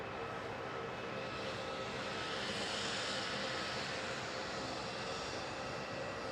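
An Airbus A320 coming in to land at Melbourne Airport makes a faint, distant, even jet rush that holds steady without any voices.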